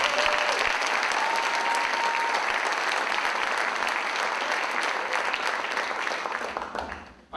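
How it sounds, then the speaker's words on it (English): Warm, sustained audience applause in a jazz club, a thick continuous clapping from a full room that stays loud for several seconds and then fades out at the end. "what about some more applause for the lady of the evening?"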